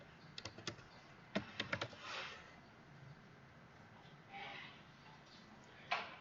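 Computer keyboard typing in a quiet room, a few quick bursts of key clicks followed by scattered single taps, fairly close and soft with no voices.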